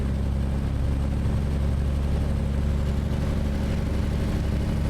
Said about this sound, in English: This engine sounds pretty good from outside.